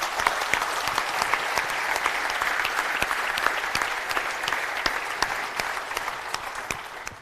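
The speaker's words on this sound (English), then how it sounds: "if you can have a round of applause for the NEXUS team" An audience at a conference gives a round of applause for the NEXUS team, dense continuous clapping at steady volume with sharp individual claps standing out, fading slightly at the end.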